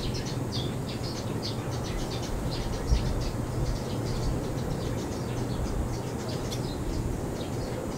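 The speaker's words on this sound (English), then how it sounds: "I can hear the birds." Birds sing outdoors in the Philippines, with repeated faint high chirps scattered through a steady wash of ambient background noise, no talking.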